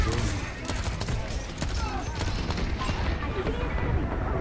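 Gunfire in Overwatch 2 rattles continuously through a dense, loud game mix, short rapid shots layered over ongoing battle noise.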